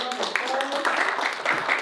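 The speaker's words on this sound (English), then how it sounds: "Please give them a round of applause." Audience applauding panelists after a higher education talk, a brief dense patter of clapping with some voices mixed in.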